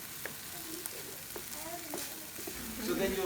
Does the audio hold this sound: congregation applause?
no